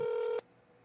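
A single cell phone ringback tone sounds loud and steady, then cuts off abruptly partway through, leaving faint room noise.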